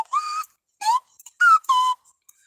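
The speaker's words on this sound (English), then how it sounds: "I bought this slide whistle for lack of like anything else to play" A slide whistle plays four short, close, loud toots, each a pure tone with slight pitch glides, separated by brief gaps of silence.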